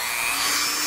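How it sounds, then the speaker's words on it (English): A Dremel rotary tool with a cutting disc cuts metal, a continuous loud high-pitched whine with a steady grinding hiss close by and no talking. "got my Dremel with a cutting disc on it, and I'm just going to cut along these straight lines"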